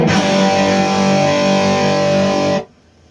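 Electric guitar played through a James Brown Kustom Double Cross distortion pedal, blending a tight, chunky stage with a thicker, fatter distortion; a sustained, loud, rich distorted chord rings steadily, then cuts off abruptly near the end.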